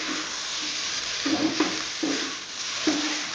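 Small fish and eggplant fry in a pan under a steady sizzle, with several soft stirring scrapes at intervals as the mixture is turned; no talking.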